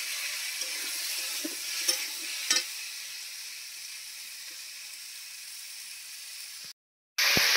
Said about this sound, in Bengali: এবার যে পেঁয়াজ কলিটা রেখেছিলাম সেটা এর সঙ্গে একটুখানি ভালো করে কষিয়ে নেব।